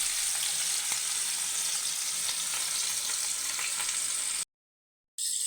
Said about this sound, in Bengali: একে একে মাছগুলো ছেড়ে দিচ্ছি। নতুন ইলিশ মাছ